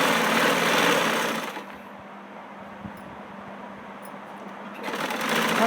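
A domestic sewing machine runs a double line of stitching on cloth, a steady loud whir that drops to a quieter hum in the middle before speeding up again near the end, with no talking.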